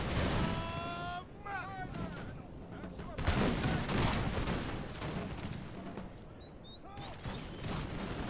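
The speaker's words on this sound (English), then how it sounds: "I'm going to have these Lifeguards shooting at the chasers here" Infantry musket volleys in the Napoleonic battle game Napoleon Total War, with Russian Lifeguards firing: ragged bursts of crackling gunfire and booming shots roll over each other, mixed with game sound effects and shouts, loud and dense throughout.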